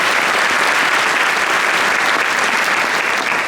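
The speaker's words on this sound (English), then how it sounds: "so they definitely deserve a round of applause." Dense, steady applause from a high school honors music festival audience honoring music teachers, loud and sustained throughout with no pauses.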